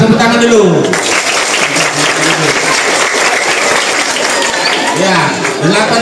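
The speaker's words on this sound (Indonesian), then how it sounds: "Tepuk tangan dulu." School students clap together in a sustained round of applause, with a voice speaking over the start and end.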